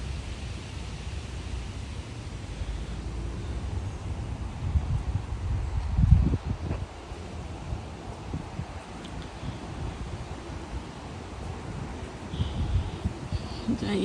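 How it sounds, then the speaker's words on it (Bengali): Wind blows steadily through tree leaves near a quiet road junction, a faint continuous rustling hiss that swells slightly at moments, with no voices over it. "কি সুন্দর বাতাস, গাছের পাতাগুলো লড়ছে"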